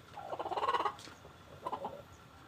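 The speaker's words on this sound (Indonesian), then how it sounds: "ini ada dua ayam suarane petrek-petrek terus ya" Two hens getting ready to lay eggs, clucking in a rapid run of loud cackles, then a pause and a shorter, softer burst of clucks.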